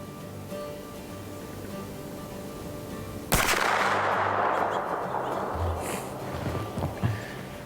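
A rifle shot fired at an adult doe during a late-season deer hunt cracks out once, loud and sharp, then rolls into a long fading echo over quiet outdoor background.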